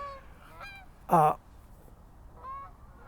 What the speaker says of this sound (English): the Canadian geese are flying above me here